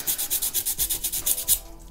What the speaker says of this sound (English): I am sanding away the coat there